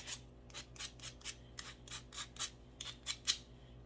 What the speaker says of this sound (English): so then I just take my sander and I sand